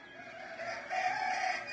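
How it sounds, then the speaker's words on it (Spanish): Roosters crowing at dawn in rural Puruándiro, Mexico, a fairly distant, drawn-out cock-a-doodle-doo rising over a soft outdoor background hiss, with no voices. "Qué bonito se escuchan los gallos."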